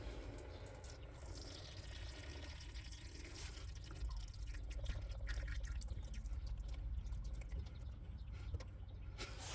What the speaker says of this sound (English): I'm going to let that drain for a little bit before I just pull the cover off so I don't get diff fluid everywhere